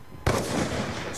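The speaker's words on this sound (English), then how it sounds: "Throwing grenade." A grenade detonates in Call of Duty: Black Ops 2, a single sudden loud blast followed by a rumbling decay, close by, with no speech.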